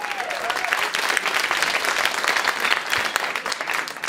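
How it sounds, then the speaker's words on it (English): A crowd at a Bay Area street dance event breaks into a full round of applause, dense clapping with scattered cheers sustained across the whole stretch. "Whoa, round of applause for that."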